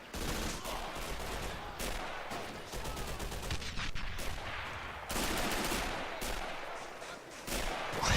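MG42 machine gun fire in the Men of War: Assault Squad 2 game, dense sustained bursts and rattling volleys with scattered shots and explosions, loud and continuous across the battle.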